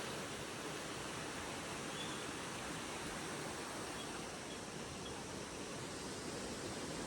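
A steady, broad rush of falling water at Thusharagiri waterfall roars continuously without pause, even and unbroken from start to finish.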